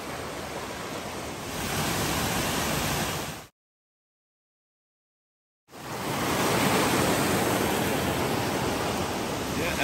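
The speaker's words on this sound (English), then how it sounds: "Another waterfall." Steady roaring rush of a waterfall on the Appalachian Trail near Barren Mountain, Maine, broad and constant, cut by a short stretch of total silence midway before the roar resumes.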